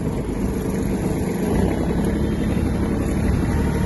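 Kubota GB-20 mini tractor driving in third gear, its small engine giving a steady, fairly loud rumbling drone with a slight rise partway through, heard alone.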